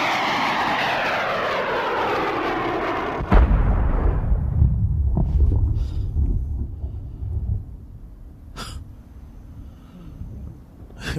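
A Javelin missile launched at a Taliban position in Afghanistan: a steady rushing roar sweeps away, then a sharp blast booms and rumbles off into the distance, with a couple of later distant cracks and no voices.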